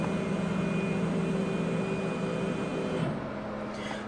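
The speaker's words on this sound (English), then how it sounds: "you can hear it in the background that it's homing position" RMLaser RM960 Pro CO2 laser engraver homing, a steady mechanical whir with fan and exhaust hum running continuously at moderate level in a workshop, with a small shift near the end as motion stops.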